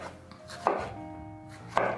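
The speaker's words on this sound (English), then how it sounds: "I'm gonna cut up some Roma tomatoes." A knife chops through Roma tomatoes on a cutting board, with two sharp, close cuts spaced about a second apart over a quiet background.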